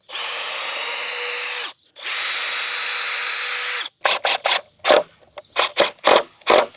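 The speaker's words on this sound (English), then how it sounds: "now you can start to drill" A power drill runs in two long steady whirs, then a series of short, sharp bursts as the trigger is pulsed.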